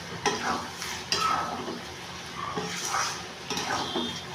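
Chicken keema ghugni stirred in a pan: a spoon clatters and scrapes in uneven strokes over a light sizzle, close by and with no voices.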